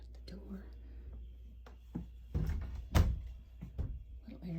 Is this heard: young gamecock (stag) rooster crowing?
no